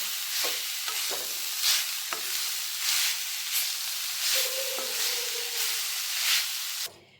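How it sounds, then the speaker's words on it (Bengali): Sugar and grated coconut stirred in a pan over low heat, rhythmic scraping strokes over a soft continuous sizzle, with a few sharp spoon taps, ending suddenly. "এবার চিনি আর নারকেলটাকে আমি একদম সিম আঁচে নাড়তে থাকবো।"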